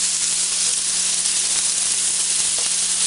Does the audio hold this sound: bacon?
yes